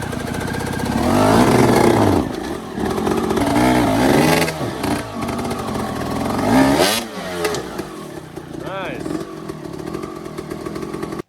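A motorcycle engine revs repeatedly on slippery rocks in rising, rasping bursts, with a person talking over parts of it.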